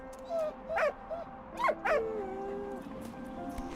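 A dog in the video game Valiant Hearts gives a few short yips and whimpering barks over a steady game soundtrack, moderately loud and close.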